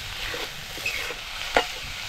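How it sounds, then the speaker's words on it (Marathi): A soft sizzle and stir as freshly grated coconut and coriander are sautéed in a pan for Konkan-style bombil batata, mostly quiet with one sharp scrape of the spoon. "आणि ओलं खोबरं आणि कोथिंबीर पण अशी परतून घ्यायची."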